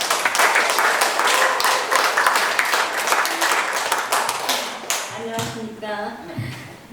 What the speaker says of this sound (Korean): 여러분 뜨거운 박수로 환영해 주시면 감사하겠습니다